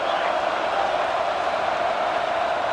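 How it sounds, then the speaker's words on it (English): Steady stadium crowd roar in a college football video game, a dense, even wall of cheering noise held at one loudness throughout, with no distinct voices standing out. "This crowd is trying to inspire this defense to make a big red zone stop."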